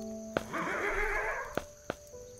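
A horse-like monster in the video game Starbound lets out a loud whinnying neigh lasting about a second, framed by sharp clicky game effects before and after.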